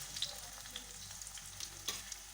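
Banana stem peel and banana flower peel chips frying in oil in a wok, giving a close, steady sizzle with small crackles and pops throughout and no talking.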